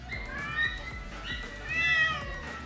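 A small kitten meows several times, thin high-pitched cries close by, the last one longer and louder, over a faint background of low thuds.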